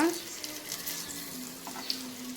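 Food frying in a pan in a home kitchen, a steady low sizzle with a faint hum running underneath throughout.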